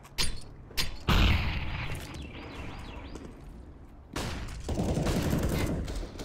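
Gunfire in Counter-Strike during a Team Spirit vs. Gambit esports match: several sharp bursts of shots, loudest early on, then a sustained rattling stretch toward the end, with no talk over it.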